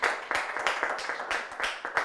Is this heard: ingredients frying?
no